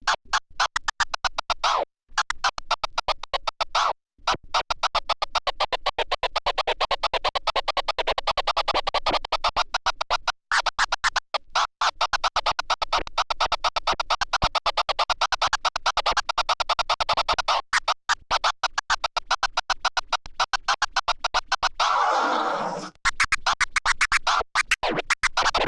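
DJ scratching cut with an Innofader PNP3 crossfader: rapid, sharp chopped bursts of a scratched sample, loud and continuous with crisp on-off gaps, ending in a brief swooping drop, no voices.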